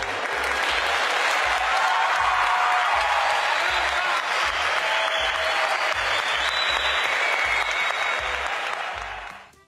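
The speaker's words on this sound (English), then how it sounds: "The round of applause after getting rejected might not help him too much." A crowd gives a loud, sustained round of applause after a rejected marriage proposal, the clapping dense and close, holding steady for several seconds before trailing off at the end.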